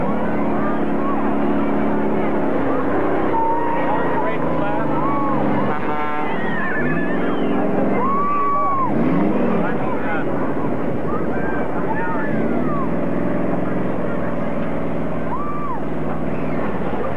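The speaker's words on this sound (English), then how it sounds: "Bomber coming in right now, the number 21 car with a brand new driver, Terry Baker." Street stock race cars from 1986 rumble and drone around a dirt track throughout, a steady mass of engine noise beneath a public-address announcer talking over it the whole time.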